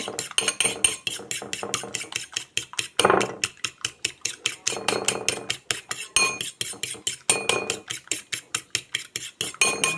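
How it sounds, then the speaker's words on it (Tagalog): Rapid, rhythmic metallic clicking of a fork whisking egg against a bowl, close and continuous, with brief pauses between bursts. "Ako'y magbabati pa ng itlog"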